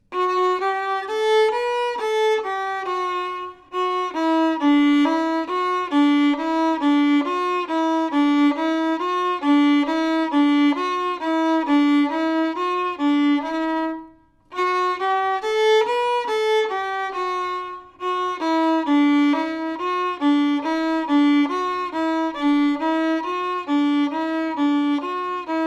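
Solo fiddle plays the old-time tune Fire On The Mountain in full, a steady run of bright bowed notes with a brief pause near the middle, close and clear with no talking.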